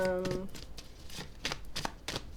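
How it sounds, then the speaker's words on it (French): Tarot cards being drawn and shuffled, soft papery riffles and slides in short bursts, close and quiet, with a voice speaking briefly at the start. "Je vais tirer encore une autre carte."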